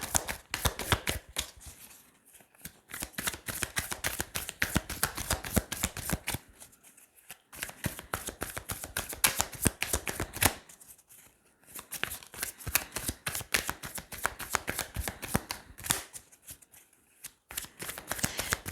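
Tarot cards are shuffled continuously up close before a three-card draw, a dense run of quick papery riffles that stops briefly in short pauses.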